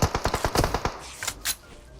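A rapid burst of about eight loud gunshots from PUBG Mobile rattles off quickly, followed by a couple of fainter, more distant shots, with no talk.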